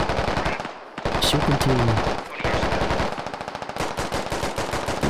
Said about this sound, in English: They're running across and they're getting shot at.